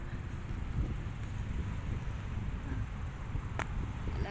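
Steady outdoor wind on a cold, sunny day in Grand Junction buffets the microphone with a continuous low rumble, broadband and unbroken throughout, with no voices present.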